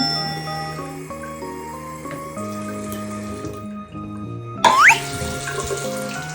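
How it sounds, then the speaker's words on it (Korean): Water poured gently into a small DIY toy water ball, a soft trickling pour beneath steady tonal background hum, with a brief brighter splashing burst near the end. "여기다 이제 물을 부어주래."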